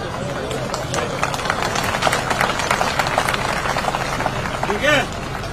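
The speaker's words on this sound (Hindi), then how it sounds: "ताली बजाओ जोर से" A village audience claps in a steady, dense patter of many hands, mixed with crowd noise and a voice speaking over it near the end.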